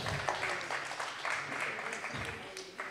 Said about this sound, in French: Ouais, vous pouvez applaudir d'ailleurs.